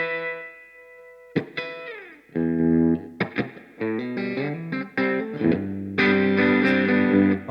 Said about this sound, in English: when I roll my guitar volume down, it becomes quite a nice, clean sound